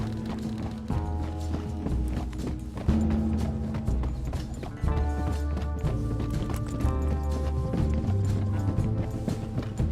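Horse hooves gallop in the western game Red Dead Redemption 2, a steady, rapid clip-clop rhythm that runs the whole time, close and prominent, with a low rumble of movement and music-like tones beneath.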